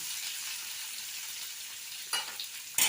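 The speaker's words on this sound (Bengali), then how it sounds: "এবার কড়াইতে তেল দিয়ে তার মধ্যে পেঁয়াজগুলো কুচো করে রেখেছিলাম সেটা হচ্ছে ছেড়ে দিলাম" Steady, dense sizzling of chopped onions frying in hot oil in a kadai, with a couple of sharper crackles and a stir near the end.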